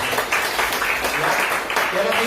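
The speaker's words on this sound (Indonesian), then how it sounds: "Berikan tepuk tangan untuk Tuhan Yesus." Church congregation applauding together, a dense steady clapping that fills the space, with some voices mixed in beneath it.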